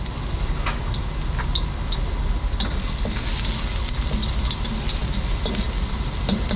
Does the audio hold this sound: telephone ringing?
no